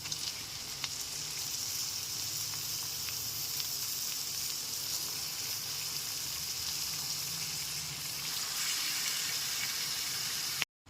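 Marinated mutton sizzles steadily in a hot pan, a constant hiss and crackle that holds evenly throughout, close by with no voices.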